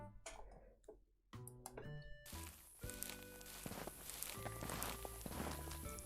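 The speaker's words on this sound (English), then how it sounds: "We also have some incredibly broken footstep noises" Repetitive footstep effects play from an unfinished Doom-like game, the broken, overlong steps sounding one after another in a steady, clicky rhythm.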